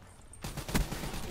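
An automated sentry gun in Black Ops III opens fire suddenly, producing a loud sustained burst of rapid shots that continues to the end.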